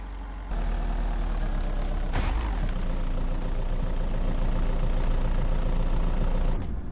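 A big truck drives in the video game VEIN, its heavy engine droning loudly and steadily, with a sudden sharp crash-like burst partway through before the engine noise carries on and cuts off at the end.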